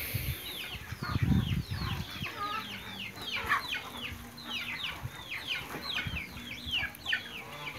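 A broody hen clucks softly and close, amid a busy chorus of chirping birds and chicks, with a brief scuffle early on.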